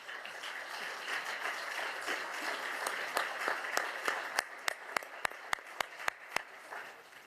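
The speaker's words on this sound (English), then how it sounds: "They deserve an applause." Applause for panelists at a policy debate session starts as a dense crowd clapping, then dwindles into a handful of sharp, isolated claps spaced out near the close.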